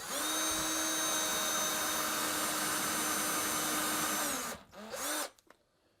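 A power drill whines loud and continuous up close, drilling into a wall with a dust catcher, for several seconds, then spins down with a couple of short final bursts before stopping.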